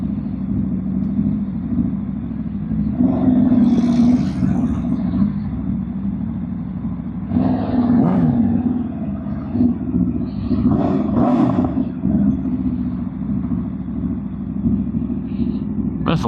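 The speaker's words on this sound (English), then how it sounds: "There's a lot of cars here." Cars roll past at a large Cars and Coffee show in Southern California, a continuous low engine rumble with several louder passes and revs rising and fading nearby.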